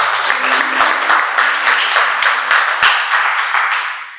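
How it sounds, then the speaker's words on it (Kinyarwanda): A church congregation bursts into loud, sustained applause in praise of God during a sermon, dense clapping with a faint background tone, fading out at the end. "umere Imana amashyi"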